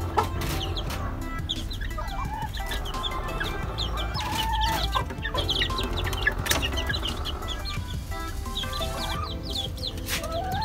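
Gamefowl hen of the Sweater line, mother of the stud roosters, clucking on a farm, with other chickens calling around her in a steady, busy barnyard clamour.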